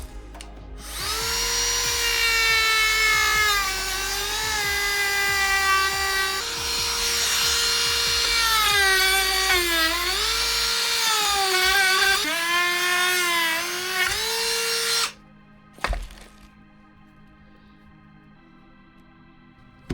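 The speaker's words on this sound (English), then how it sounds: "we can use the tools we have here, which is a Dremel, but I'm gonna be very careful not to hit that shaft" A Dremel rotary tool cuts near a stuck bow thruster shaft, whining loudly with a pitch that sags and recovers under load in several long passes, then stops, followed by a brief clunk.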